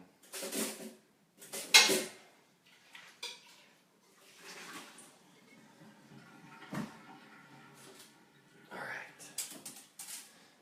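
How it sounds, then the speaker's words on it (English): Cooked sweet potatoes dropped into a mixing bowl in a kitchen, with a few separate clattering knocks and soft thuds against the bowl spread out between quieter gaps. "take my sweet potatoes and just put them into the mixing bowl"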